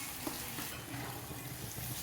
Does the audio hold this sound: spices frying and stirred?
yes